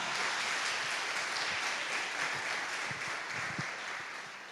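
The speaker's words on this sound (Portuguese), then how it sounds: "Se você crê, querido, dê um forte aplauso a esse Deus." A church congregation applauding at a Portuguese-language sermon, a dense sustained wash of clapping from many hands that stays loud throughout and fades slightly at the end, with no talking over it.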